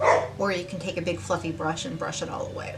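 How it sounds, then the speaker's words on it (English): A puppy barks and yips repeatedly in the background while someone talks steadily over it. "If you hear the puppy in the background, I apologize."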